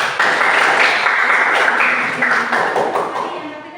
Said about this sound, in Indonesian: Yang luar biasa, tepuk tangan.